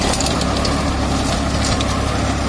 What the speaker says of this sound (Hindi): अभी अपन इसको लोग के थर्ड गियर में चला के देखेंगे।